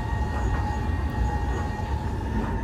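Diesel DM90 Buffel railcar in Train Simulator 2017 rumbles steadily with a constant low drone and faint tonal whine as it slows under braking, loud and continuous throughout.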